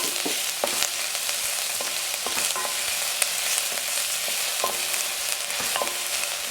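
Onions frying in coconut oil sizzle loudly and steadily up close, with regular scraping and tapping of a utensil stirring them throughout.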